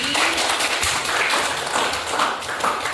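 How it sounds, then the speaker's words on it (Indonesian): A class applauds after student presentations, a brisk, continuous patter of many hands clapping in a room, moderately loud and even from start to finish with no voices on top. "Tepuk tangan sekali lagi."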